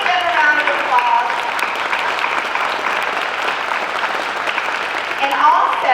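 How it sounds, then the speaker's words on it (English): Audience applause fills a chamber of commerce annual dinner in East Alabama as chamber ambassadors stand, steady loud clapping throughout with a few voices rising over it near the start and end. "Please give them a round of applause."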